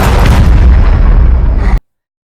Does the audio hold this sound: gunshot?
yes